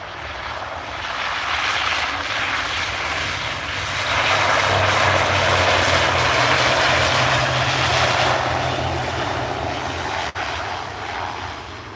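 A Loganair ATR 42 turboprop runs at Edinburgh Airport, its propeller drone loud and sustained with a low throbbing hum beneath a broad hiss that builds midway and stays strong, heard alone without talk.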